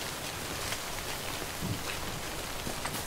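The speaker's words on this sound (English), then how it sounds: "We've waited out the rain over there." Rain falling in the video game Death Stranding: a dense, steady hiss of drops spattering on surfaces, continuous and moderately loud throughout with no voices.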